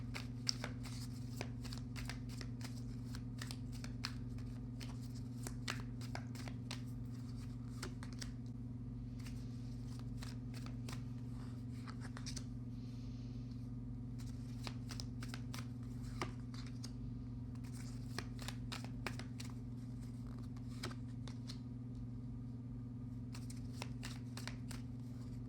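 Tarot cards shuffled in quick rustling bursts and light flicks, close and faint, over a steady low electrical hum, with no one speaking.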